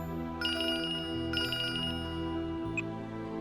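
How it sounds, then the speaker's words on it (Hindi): A phone rings in two short electronic trilling bursts over a steady musical background, followed by a brief single tone. "रिचर्ड का ही फोन आ रहा है।"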